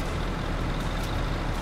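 A truck engine rumbles steadily in a farming video game, with hissing air brakes, a continuous loud drone filling the whole moment with no talking.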